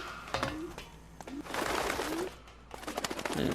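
Pigeons cooing at a bird coop in the L.A. Noire video game, several soft rolling coos repeating close by over a low hum, with fluttering and rustling between calls.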